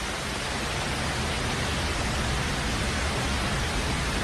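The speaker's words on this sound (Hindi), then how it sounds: "ऐसी बारिश हौसला तोड़ देती है" Heavy jungle rain pours down as a dense, unbroken hiss, steady and loud throughout with no gaps or other sounds.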